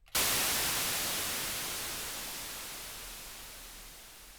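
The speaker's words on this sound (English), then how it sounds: "now we have a good little white noise tail there" Synthesized white noise tail sweep made in Ableton as a transition effect: a sudden hiss bursts in after a brief silence and then slowly fades over about four seconds, with no voices.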